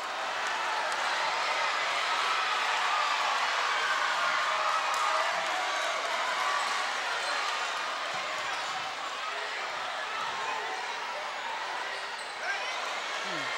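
Basketball crowd in the fourth quarter of a Hampton Crabbers versus Bethel Bruins game, a steady loud roar of cheering that fills the arena throughout, with a commentator's voice faint beneath.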